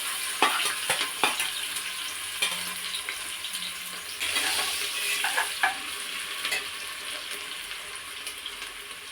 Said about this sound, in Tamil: ஆயில் நல்லா சூடாயிடுச்சு. இப்போ ஆனியன் சேர்த்துக்கலாம்.